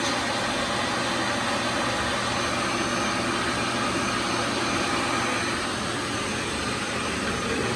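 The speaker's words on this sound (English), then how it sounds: "So I turn that on, and that turns on this little shop vac." A small shop vac serving as dust collection in a woodworking shop with a Grizzly table saw roars steadily, a loud broadband whoosh that holds constant from start to end with no voices.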